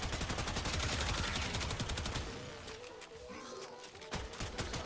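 Incarnon Prisma Gorgon firing rapid automatic bursts in Warframe, a dense stream of sharp gunfire shots that thins out midway and then resumes with scattered shots.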